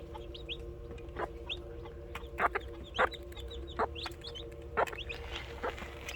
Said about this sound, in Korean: 자연부화한 병아리입니다